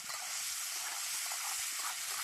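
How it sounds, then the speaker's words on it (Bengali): Paneer pieces coated with turmeric and salt fry in white oil in a kadai, giving a steady, even hiss of sizzling oil with no other sounds. "একটু কড়াইতে সাদা তেল দিয়ে ভেজে নিচ্ছি"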